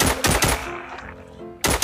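Automatic gunfire in The Walking Zombie video game, loud rapid bursts of shots that break off briefly and then start again, with no talking.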